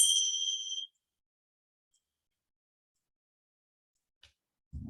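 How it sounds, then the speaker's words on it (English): A single bright bell tone rings out clearly and decays over about a second to open a yoga class. Near silence follows before a voice begins at the very end. "and the bell."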